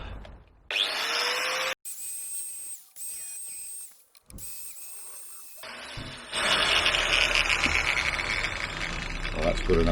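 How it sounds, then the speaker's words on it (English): A grinder cleans up metal parts of motorhome steps, running in loud, whining bursts that start and stop several times. The last stretch becomes a long, harsh grind against the metal, close and dominant, with no talking. "I won't talk whilst the grinder's on, because I'll only over talk myself"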